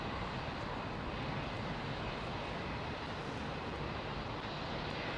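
A jet aircraft with Trent 700 engines takes off from Heathrow's runway 27R, its dense, continuous engine roar filling the clip at a steady, loud level with no talk.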